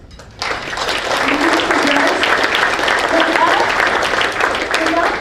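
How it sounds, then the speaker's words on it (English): Audience applause in a meeting room follows a call to thank sustaining sponsors at a general membership meeting, starting abruptly and holding as a steady, dense wash of clapping for about five seconds, with scattered voices mixed in. "Big round of applause."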